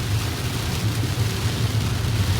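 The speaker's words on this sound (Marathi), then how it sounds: "बाहेर पाऊस चालू आहे आणि मी कुठल्याही प्रकारचा वायफर वापरत नाही" Rain pours steadily outside a moving car, a dense continuous hiss of drops over a low rumbling engine and road drone heard from inside the cabin.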